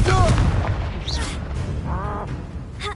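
A Confringo blasting spell from Hogwarts Legacy goes off in a loud burst with booming rumble in the middle of combat, while shouted voices and creature cries overlap it.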